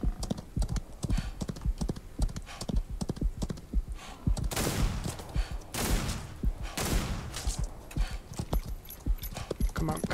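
Horse hooves clip-clopping at a gallop in the Western video game Outlaws of the Old West, a steady rapid rhythm under game sounds with bursts of noise and gunfire-like cracks in between.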